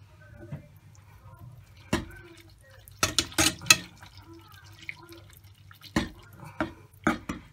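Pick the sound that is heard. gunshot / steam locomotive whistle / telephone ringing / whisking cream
whisking cream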